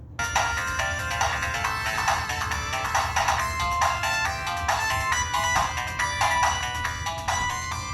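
Tinny electronic game music with bright chiming melody plays steadily from the small built-in speaker of a modded Anbernic RG40XXV handheld console, loud and continuous, no talking.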